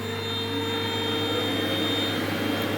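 A CO2 laser printing machine for engraving names on pens runs with a steady, loud electrical hum and fan-like whir, constant throughout with no talking.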